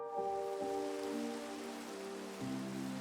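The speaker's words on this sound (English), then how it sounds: "of course it starts raining when I hit record" Rain falls in Minecraft with the Fossils and Archaeology mod, a soft continuous hiss of drops under a sustained tonal background, steady and fairly quiet throughout with no speech.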